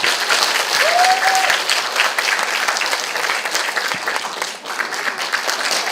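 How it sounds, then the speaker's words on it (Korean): An audience at a Korean cancer-survivor talk concert bursts into loud, steady applause that fills the hall, sustained for several seconds with a brief dip near the end. "박수 부탁드리겠습니다."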